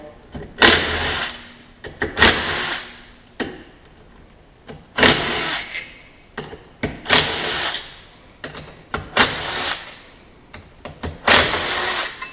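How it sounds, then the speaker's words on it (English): Power tool backing bolts out of the clutch on a 2017 Polaris Sportsman 850/1000 during a clutch kit install, about six loud, close whirring bursts with short pauses between them. "So you back these bolts out."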